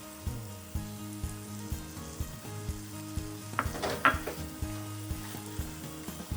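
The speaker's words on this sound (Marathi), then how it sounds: "आणि आता याच्यामध्ये मी टोमॅटोची प्युरी केली ती घालणार आहे" Tomato puree sizzling as it hits a hot pan while making hotel-style paneer tikka masala, a steady close fry with spoon scrapes and stirring clatter, loudest around the middle, no voices.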